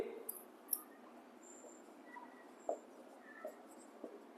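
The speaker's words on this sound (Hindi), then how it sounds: "तो यहाँ लिखेंगे" Chalk tapping and scraping on a board during a chemistry lesson, with short scattered strokes and taps at a moderate distance over quiet room tone.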